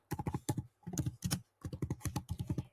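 Close, crisp keystrokes on a computer keyboard tap out in quick clustered bursts separated by short pauses, with no voices.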